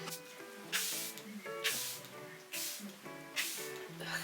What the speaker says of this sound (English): set my face with spray twice